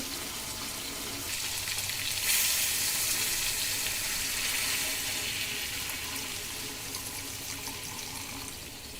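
Water is poured into a pot of chicken curry cooking on a gas stove, a steady splashing rush that swells near the start and then runs evenly to the end, with no talking.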